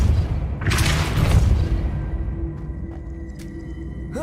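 The Depulso spell cast in Hogwarts Legacy, a loud booming whoosh and thud that fades into a ringing tail with a few faint tonal pings afterward.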